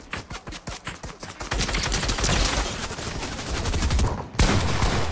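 Rapid gunfire from a first-person shooter game: a string of separate sharp shots at first, then a dense sustained burst of automatic fire, loud and close, with a brief gap near the end before firing resumes.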